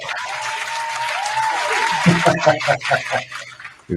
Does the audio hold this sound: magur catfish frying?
no